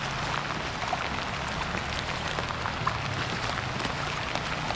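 Rain falls steadily outdoors, a constant broad patter and hiss of drops with a few slightly sharper taps, heard close and alone for several seconds.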